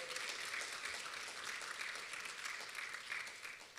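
A university audience at final student presentations gives a steady round of applause, quite quiet and distant, continuing evenly throughout.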